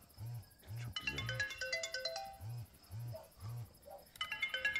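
A phone rings while someone places a call: a repeated two-tone ringback pattern of short low beeps, with a bright melodic ringtone over it, fairly faint and close.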